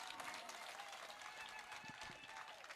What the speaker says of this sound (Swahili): Pigeni makofi tafadhali.